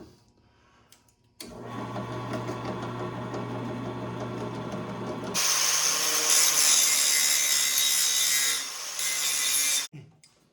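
Power drill boring holes in a pin for a Honda CRF300L dual-sport motorcycle trail jack, a sustained loud whirring grind that starts abruptly, rises harsher and brighter midway, then cuts off.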